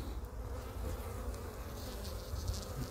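Honeybees fly around the hive colonies of an apiary, forming a steady, close insect buzz and hum that holds continuous, with no talk.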